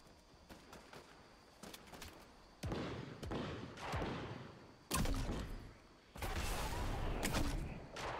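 Snowball launcher firing in a Fortnite match, several sharp bursting shots spread across the stretch, growing louder and denser toward the end, with game ambience between them.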